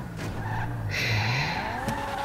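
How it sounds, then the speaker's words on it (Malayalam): A car pulls up and skids to a stop in the video game GTA 5, a rising engine note followed by a bright, sustained tire squeal that fades out over a couple of seconds. "അപ്പോഴൊരു വണ്ടിയുടെ സൗണ്ടായിട്ട് മൈക്കിൾ അങ്ങോട്ട് വന്നതാണ്."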